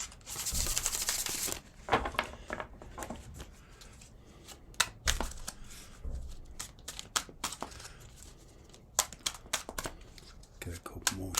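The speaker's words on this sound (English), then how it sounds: "Get a couple more shuffles." Tarot cards are shuffled by hand in quick bursts of riffling and papery slaps, close and crisp, with a person talking quietly between the shuffles.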